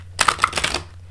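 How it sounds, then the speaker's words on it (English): Tarot cards riffle in one quick shuffle of rapid, crisp flutters lasting under a second, close and fairly quiet, alone without talk. "One more shuffle and we'll get our last cards advice."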